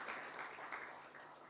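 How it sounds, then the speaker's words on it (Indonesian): Applause from a congregation during a Sunday church service, a faint, steady wash of clapping heard from a distance, lasting briefly without voices. "kita kasih tepuk tangan untuk Tuhan kita"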